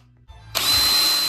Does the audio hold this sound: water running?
no